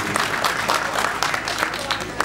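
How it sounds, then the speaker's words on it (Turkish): An audience at a sports club's season-opening celebration applauds the performing artists, steady dense clapping from a crowd at moderate loudness throughout the short stretch. "önce sanatçılarımız için bir alkış istiyorum sizlerden"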